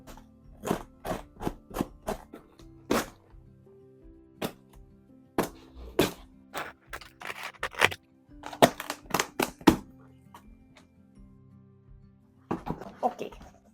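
Sharp snipping and crunching sounds come in irregular bursts as dull scissors hack through plastic packaging, close and fairly quiet between cuts.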